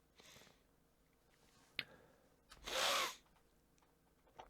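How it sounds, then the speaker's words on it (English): A single loud sneeze, a short broadband burst in an otherwise quiet room, preceded by a faint sharp intake. "I was sneezing and now I got these boogers"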